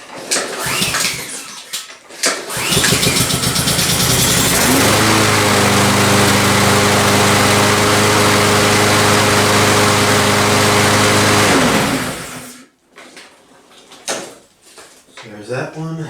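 A lawn mower engine cranks, fires and runs steadily at a loud, even drone for several seconds, then cuts off, with handling noises and a voice talking before and after.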